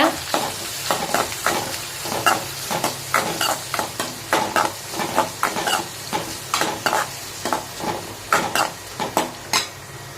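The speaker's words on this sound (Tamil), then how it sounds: "போட்டு நல்லா வெங்காயத்தை வதக்கி விடுங்க." Onions sizzle in hot oil in a pan while a utensil repeatedly stirs and scrapes, making regular clinks and rustles over a soft, steady frying hiss.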